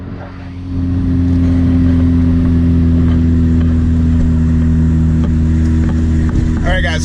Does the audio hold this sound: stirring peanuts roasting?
no